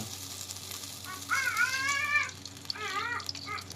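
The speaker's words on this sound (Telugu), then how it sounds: "ఆయిల్ బాగా హీట్ ఎక్కిందండి సో అయితే దాంట్లో మసాలా వేసేసుకున్నాం" Masala spices dropped into well-heated oil in a pan for chicken curry, giving a steady close sizzle and frying hiss that swells for a couple of stretches, with no talking.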